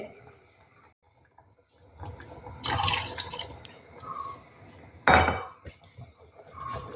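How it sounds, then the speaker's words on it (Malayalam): Water is poured into a pot of sambar with a brief splashing rush amid light clinks of cookware, then a second short splash and faint kitchen clatter. "അപ്പോൾ കുറച്ചുകൂടെ വെള്ളം ഒന്ന് ആഡ് ചെയ്യട്ടെ."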